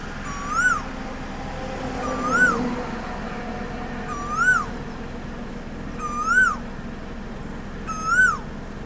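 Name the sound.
male Asian koel calling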